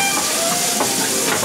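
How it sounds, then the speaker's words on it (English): A hot frying pan that was used for bacon hisses loudly under running rinse water, a dense, steady sizzling hiss for a moment with no voices. "Let me rinse this pan out because I used it for my bacon."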